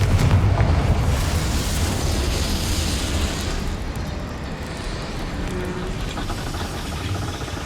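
A Confringo spell explodes in Hogwarts Legacy, a loud rumbling blast that fades into a long, sustained roar with no talk over it.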